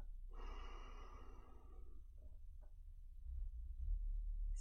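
Slow, deep diaphragmatic breathing during a relaxation exercise: one long, soft airy exhalation, a brief pause, then a quieter breath over a low background hum.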